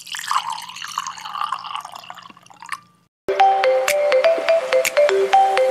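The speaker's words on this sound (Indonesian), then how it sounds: "Tuangkan air." Water is poured into a blender holding dissolved cornstarch, making a splashing, trickling stream for a few seconds before it stops and bright, ringing tones take over.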